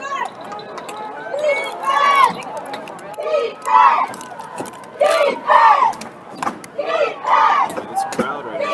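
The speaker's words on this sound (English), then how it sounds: "This crowd right now" Crowd noise from the stands at a high school football game between ECR and Grant, with loud surging voices and chatter in repeated waves over the whole stretch.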